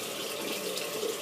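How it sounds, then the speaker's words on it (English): Warm water splashes and runs at a sink as it is scooped onto a freshly shaved face, a steady, close watery rush. "get some more hot water and warm water, and splash your face with it"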